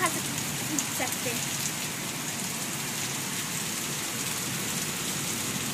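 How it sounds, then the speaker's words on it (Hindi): Steady rain falls outdoors in a dense, even hiss that persists throughout, close and moderately loud with no clear voices. "इतना बस बारिश हो रही है, देखिए।"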